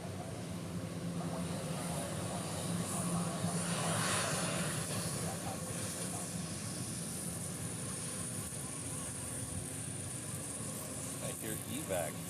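An aircraft passes at Honolulu airport, a sustained engine roar that swells around the middle and stays as a steady drone, heard at a distance with people talking over it.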